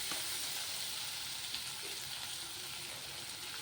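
Fried rice ingredients sauté in a hot pan, a steady close sizzle lasting throughout with faint stirring scrapes.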